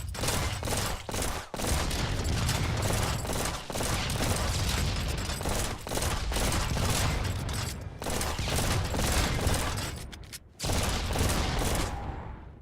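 Rapid bursts of Trifire pistol gunfire in a video game, a dense, continuous volley of loud shots with brief pauses and mechanical clicks between strings, no talking.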